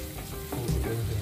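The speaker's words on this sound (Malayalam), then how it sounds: "അതിനുശേഷം ഒന്ന് ജസ്റ്റ് ഒന്ന് വഴറ്റി കൊടുക്കാം." Chili powder masala being sautéed in a pan for a fish curry, a steady soft sizzle with light stirring scrapes running close and moderately loud throughout the short stretch, with no talk.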